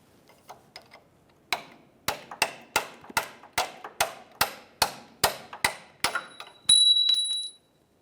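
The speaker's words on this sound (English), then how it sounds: "Now we can start removing those mounting bolts." Control arm mounting bolts come out of a Chevrolet suspension with a steady run of crisp, evenly spaced ratchet clicks close by, followed by a brief high buzzing whir.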